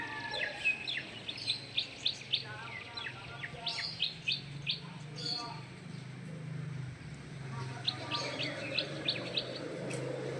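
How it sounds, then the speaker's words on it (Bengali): Birds chirp and call all around a rooftop on a cloudy rainy-season day just after a shower, with short bright tweets coming in scattered bursts at moderate distance over quiet background noise. "চারদিকে পাখিরা ডাকাডাকি করছে।"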